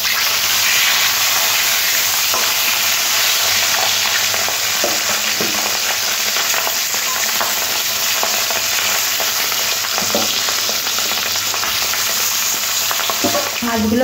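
Katla fish pieces fry steadily in hot oil, a dense, continuous sizzle with scattered pops and crackles running close and loud throughout, no voices.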